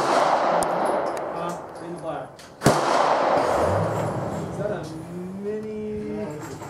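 Pistol shots from a Glock 42 at a shooting range: one sharp report early and a louder crack a couple of seconds later, with people talking around them.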